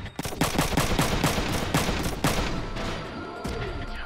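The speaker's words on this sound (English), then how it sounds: "Oh, and it's the machine gun." Rapid machine-gun bursts in the mecha battle game Front Mission 3, loud sharp reports firing in quick, evenly spaced succession, thinning toward the end.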